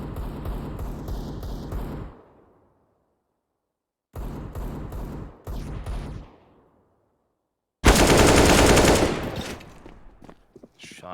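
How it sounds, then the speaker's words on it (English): Automatic gunfire rings out in an esports grand final match of a competitive shooter video game. Two rapid bursts come with pauses between them, followed by a loud, dense volley that fades out. "Shots from Cello."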